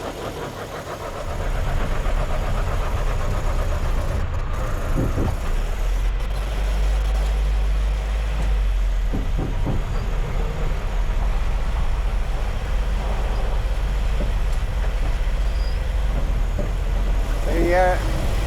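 A Land Rover Series 2A drives along a road, its engine a steady loud rumble throughout, with a voice talking over the engine noise now and then.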